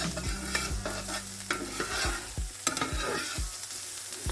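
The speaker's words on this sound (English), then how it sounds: "just mix in the garlic with your onions and peppers" Garlic stirred into sizzling onions and peppers in a hot pan for ground beef tacos, with a steady fry hiss and repeated close spoon scrapes and knocks against the pan at an uneven pace.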